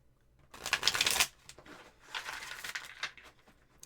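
Tarot cards being shuffled by hand in two bursts, a dense papery riffle and crinkle close to the mic, the first louder and the second softer and more scattered.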